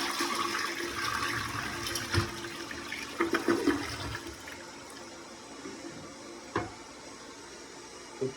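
A brandless front-flush toilet flushes with rushing water, followed by a few sharp clunks and gurgles as the tank refills, fairly quiet and with no talking.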